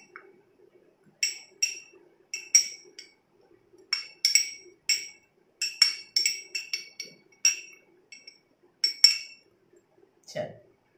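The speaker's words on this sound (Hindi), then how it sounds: "अब इन दोनों को अच्छे से कर लेना है मिक्स" A spoon stirs maida and rice flour together in a bowl for a homemade face pack, giving bright clinks and taps in irregular clusters, close and crisp, with quiet gaps between bursts.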